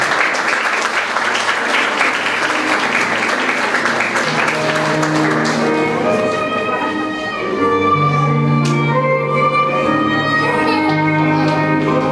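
Audience applause fills a solemn civic ceremony honouring teachers, a dense sustained clapping from a hall of people that runs the whole time, with music-like tonal lines rising beneath it midway.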